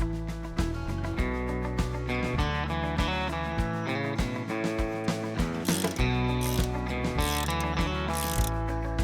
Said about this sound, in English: Now I'm going to use a torque wrench at 140.